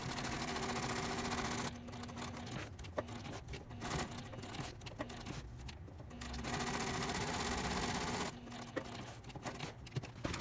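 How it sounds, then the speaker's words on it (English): A sewing machine top stitches around the zipper overlay on a tote bag in contrast thread, a close steady motor hum broken by short pauses and restarts, with light clicks between bursts. "I'm going to top stitch just around the perimeter of my zipper overlay"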